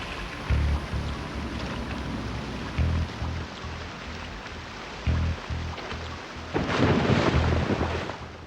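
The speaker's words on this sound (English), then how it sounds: "It also appears to be raining inside this cave structure" Steady rain patters inside a cave in the video game Nightmare Creatures, beneath low rumbling bursts that come and go, with a louder splashing surge near the end.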